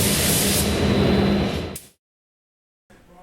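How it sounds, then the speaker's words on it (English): A steady, loud spray hiss of a red base coat being sprayed onto an exhaust runs for under two seconds and then cuts off abruptly. Silence follows, then a faint rustle near the end. "Now I'm going to spray a red base coat."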